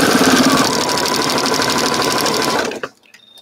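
A sewing machine stitches crumb quilt scraps in a loud, close, continuous mechanical whir for nearly three seconds, then cuts off abruptly into quiet.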